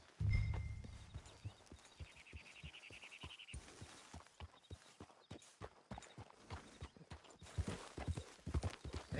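A horse in Red Dead Redemption 2 walking at a steady clip-clop, distinct hoof strikes throughout, with a brief whinny early on.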